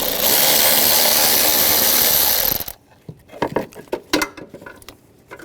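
A ratchet with a T20 socket removing a screw near the horn of a 2008-2012 Jeep Liberty 3.7L V6: a loud steady whir that cuts off, then a string of close, uneven ratcheting clicks.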